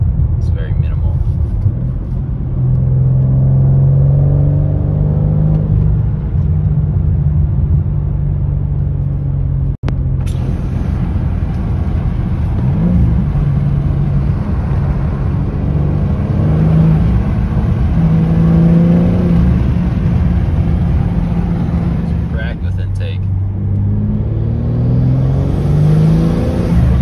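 BMW G80 M3 with aftermarket intakes, its engine revved repeatedly in a rising and falling pattern, loud and close, with a steady rumble between the revs.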